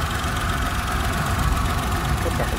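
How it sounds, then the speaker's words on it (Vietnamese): A 2010 Chevrolet Spark with a 0.8-litre three-cylinder engine idles steadily nearby, a dense, even rumble with no voices over it. "máy nổ êm"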